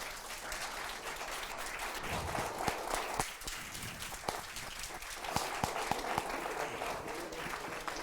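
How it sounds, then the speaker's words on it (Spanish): An audience claps at the close of a talk in a lecture series, a full, steady round of applause with a few sharper individual claps standing out, heard alone at moderate volume. "Oye, más fuerte el aplauso porque se pasó la charla Felipe, ¿cierto?"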